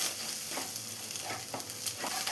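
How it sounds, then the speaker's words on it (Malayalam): Egg thoran, a Kerala-style egg stir-fry, being mixed and fried in a pan, with a steady close sizzle broken by several scraping stirs of a spoon against the pan. "മിക്സ് ചെയ്ത് ഒന്നുകൂടെ ഒന്ന് ഫ്രൈ ആക്കി എടുക്കണം."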